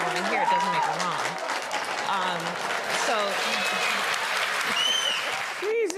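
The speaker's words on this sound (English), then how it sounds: "why were the zombie crowds clapping at Kamala's answer?" A crowd applauds Kamala Harris's answer with steady, sustained clapping throughout, while a voice talks over it.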